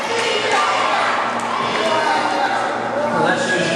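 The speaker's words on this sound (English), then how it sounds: "Let their kids cheer for Dave Duncan." A wrestling crowd with kids shouting and cheering for Dave Duncan, a dense, loud roar of voices and cheers that carries on throughout with commentary talking over it.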